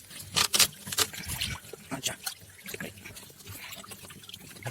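Water splashes and trickles into a cichlid fish tank in uneven bursts, as if poured in spurts, then settles into a softer dribble.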